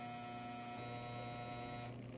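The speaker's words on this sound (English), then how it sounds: "that buzzer is like so annoying" A steady electronic buzz with a sharp tonal whine holds for about two seconds before cutting off, loud and close with no talking.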